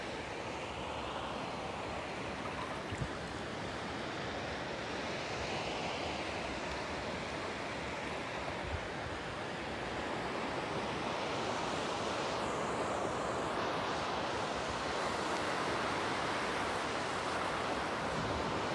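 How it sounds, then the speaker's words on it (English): Big ocean waves break on a shell-strewn beach in a continuous, broad roar of surf, steady and moderately distant, with wind buffeting the microphone throughout. "Big waves."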